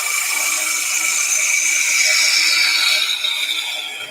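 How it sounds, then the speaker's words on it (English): Bowl gouge cutting a simple domed wooden gonk on a woodturning lathe, a steady close, bright scraping hiss with a faint rattly texture that runs unbroken throughout, with no talking. "I'm using a bowl gouge here"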